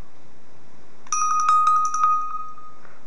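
A Windows Phone Mango ringtone plays alone on a smartphone, a bright chiming melody of a few quick electronic tones that starts after a short silence and rings clearly for under two seconds before fading.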